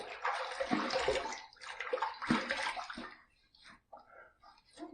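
Water splashes and sloshes in a sink, scooped by hand to wet the face before shaving, in bursts that fade. Someone talks quietly under the splashing.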